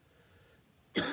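A single sharp cough bursts out after a near-silent pause, loud and close.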